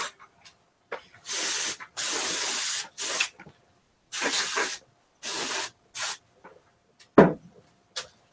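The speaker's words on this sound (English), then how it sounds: "I'm going to need more air in a can." Canned compressed air sprays in a workshop, several loud hissing bursts of one to two seconds each separated by short pauses, up close and with no talking.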